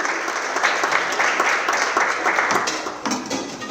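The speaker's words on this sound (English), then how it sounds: "I want to start with giving a big round of applause to Jacquelynn" Banquet audience at an awards night bursts into sustained, dense applause, loud and close, filling the room steadily with a few scattered cheers mixed in.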